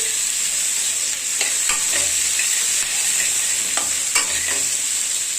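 Chicken kalvan ingredients roast in a hot pan, giving a steady sizzling hiss broken by the occasional clink and scrape of stirring.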